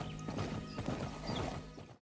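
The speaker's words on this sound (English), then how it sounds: "The horse!" Horse hooves clip-clopping in the Fable video game, set in the handcrafted land of Albion, a steady rhythmic trotting close and fairly loud under game music, with no talking.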